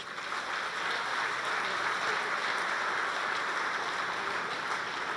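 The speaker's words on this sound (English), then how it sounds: "Please applause to the fantastic job, long job, difficult job, to our translators" Conference attendees at closing remarks applaud the translators, a steady, fairly even patter of many hands clapping that holds at moderate loudness throughout.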